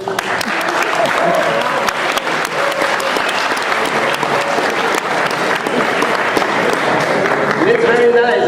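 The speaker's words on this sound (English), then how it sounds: "it's very nice, I get an applause" Sustained, dense applause from a large audience at an evening solar energy conference celebration, loud and steady for over eight seconds, with voices faintly mixed in.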